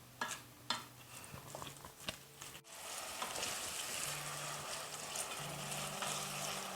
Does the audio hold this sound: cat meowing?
no